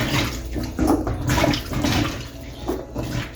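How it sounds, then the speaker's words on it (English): Vegetables are rinsed under running water in a home kitchen before going into a strainer, a close, loud splashing gush with irregular surges over several seconds, no talk. "I'm gonna wash these, put them in my strainer."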